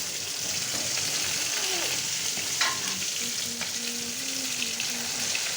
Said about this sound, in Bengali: এই দেখুন এরকমভাবে ভেজে নেবো একটুখানি।